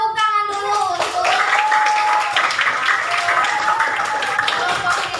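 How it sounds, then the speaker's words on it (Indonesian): A classroom group of children claps together after a quiz answer about ice-cream sticks. Dense, steady applause runs for about four seconds, with young voices calling out over it. "Tepuk tangan dulu untuk"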